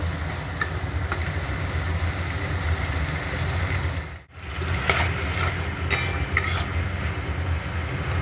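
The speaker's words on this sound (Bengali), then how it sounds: "মশলাটা ভালো করে কষে নেবো" Spice masala with chopped tomato is stir-fried in a pan for Bengali dhokar dalna. A dense, continuous sizzle runs throughout, with scattered stirring scrapes and a brief drop in sound midway.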